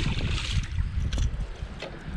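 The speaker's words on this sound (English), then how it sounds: "This wind is going crazy right now." Strong wind buffets a paddleboard out on a pond in Texas, with gusty low rumbling roar against the microphone and a few faint splashes and knocks, no speech.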